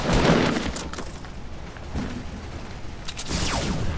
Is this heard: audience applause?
no